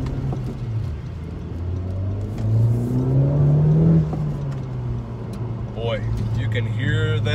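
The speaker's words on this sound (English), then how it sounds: "Can hear that exhaust and that engine waking up with just a little bit of tap of the throttle." A 2019 Honda Civic Type R's engine and exhaust rumble and swell briefly with a light tap of the throttle, then settle back to idle, with a person talking over it toward the end.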